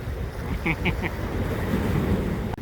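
Ocean waves crash against shoreline rocks on the coast at Rayong town, heard as a continuous loud wash of surf and wind noise, with a few brief higher chirps early on.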